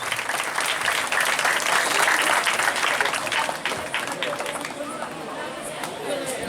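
Audience applause at a temple festival swells and then fades over a few seconds, with crowd chatter and voices mixed in.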